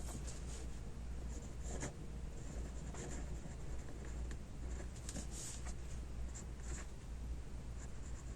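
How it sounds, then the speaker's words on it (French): Pen or brush writing "joyeux printemps" on a watercolour card, soft continuous scratchy strokes close up, with faint light taps and no talking. "Je vais écrire joyeux printemps."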